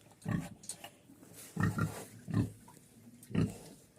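A sow grunts close by in several low, throaty bursts, spaced irregularly with quieter snuffling between them.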